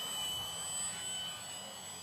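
An Ares Alara RC airplane flying on low throttle, its motor giving a steady, even drone that holds at moderate level throughout with no voices.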